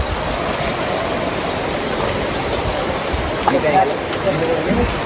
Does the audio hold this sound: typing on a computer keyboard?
no